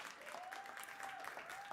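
A church congregation claps during a service, faint dense applause across the stretch with a thin sustained tone and a voice faintly audible underneath.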